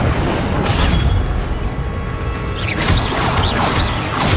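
Incendio fire spell cast in a Hogwarts wizarding video game, a loud roaring whoosh of flame with booming bursts and whistling streaks of magic swept across it.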